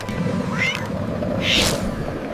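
Cat giving two short meows, the second brighter and louder, heard against a background hum in a brief clip.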